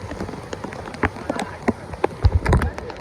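Steady rain falls over a village during a heavy downpour, with water running and rising all around, a broad hiss dotted with sharp splashes and thuds growing heavier toward the end; a voice talks intermittently.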